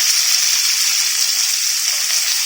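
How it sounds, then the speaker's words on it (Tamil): Shallots and garlic are sautéed in hot oil, producing a steady, even, close sizzling hiss that holds without pause for the whole stretch. "சின்ன வெங்காயம் நல்லா ஒரு 2 கை அளவு சேர்த்துருக்கேன்"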